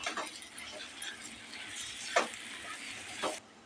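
Pumpkin sabji with jaggery and amchur powder is sautéed in a pan, giving a soft, continuous sizzle with a few scraping stirs of a spoon at irregular moments.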